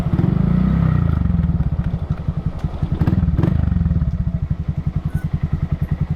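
A motorcycle with a soft rear tyre rides along the road, its engine a loud, steady low throb with a rapid pulsing beat that swells and eases, plus a few light clatters.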